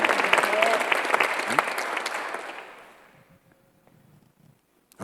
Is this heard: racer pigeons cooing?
no